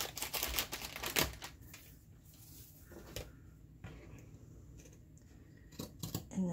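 Scissors trimming paper during a ring binder craft project, with a quick run of crisp snips at first, then scattered single cuts close by.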